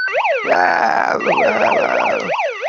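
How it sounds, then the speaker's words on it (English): Fire engine siren sound effect, loud and close, with repeated rising and falling wails cycling rapidly over about three seconds. "Had the fire engine going off because it is an emergency for those who are doing Scrum"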